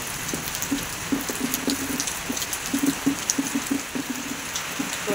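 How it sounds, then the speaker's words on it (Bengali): Heavy rain falls in a steady, close hiss, with scattered louder drips and patters on a surface standing out against the constant wash. "বৃষ্টির লেগে বইয়া রয়েছি"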